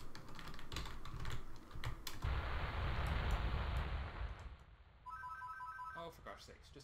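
A phone ringtone sounds as a short run of bright, repeating electronic tones near the end, following a stretch of clattering, keyboard-like tapping and a broad rumbling wash.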